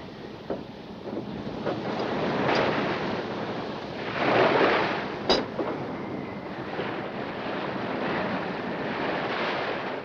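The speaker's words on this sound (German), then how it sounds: "Hört sich an wie Brandung." Ocean surf breaking heard from aboard a steam ship at sea, a low continuous wash with swelling surges and wind noise, moderately faint and without voices.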